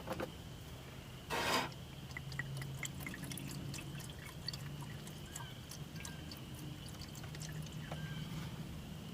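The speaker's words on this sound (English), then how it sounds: "add our engine flush" Engine flush trickles faintly through a funnel into a car engine, soft pouring and scattered drips over a low background hum.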